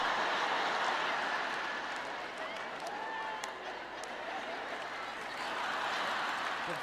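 An audience at a French-language sermon applauds, giving a dense, steady clapping wash that holds evenly and fairly softly the whole time, with a few murmured voices underneath.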